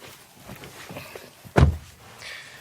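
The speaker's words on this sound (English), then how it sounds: "let's check out the rear, and that's accessed through these wide opening doors" Rear door of a SEAT Tarraco seven-seat SUV: faint handling clicks and rustles, then a single solid thunk from the latch releasing, followed by a soft fading swish as the wide door swings open.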